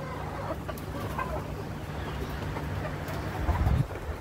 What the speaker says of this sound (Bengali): এই যে লাইট ব্রাহ্মা